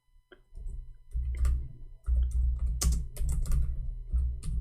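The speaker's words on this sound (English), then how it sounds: "I hate it when I type in Arabic," Computer keyboard typing in bursts of rapid clicking keystrokes, fairly close and clear, with short pauses between runs and no talking.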